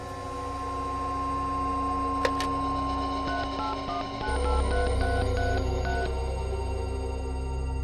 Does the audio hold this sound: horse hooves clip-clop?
no